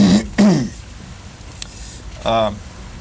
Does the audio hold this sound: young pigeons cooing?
no